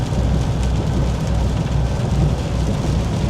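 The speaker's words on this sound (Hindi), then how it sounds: "इस तूफ़ान से बाहर निकल जाऊँ मैं" Heavy rainstorm drumming steadily on a truck during a Florida drive, a dense, continuous roar of rain with deep low rumble, loud and unbroken throughout with no talking.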